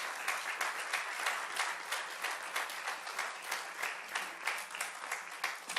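Church congregation applauding during a service, a continuous wash of many hands clapping at moderate distance, steady and fairly quiet, with faint voices mixed underneath.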